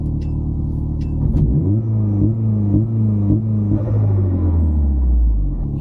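Astra VXR engine held on 2-step launch control with the hard cut RPM lowered, a loud deep idle rumble rising into a stuttering, pulsing rev limiter that bounces rhythmically before falling back.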